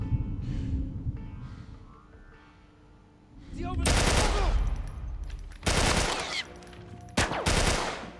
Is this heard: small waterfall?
no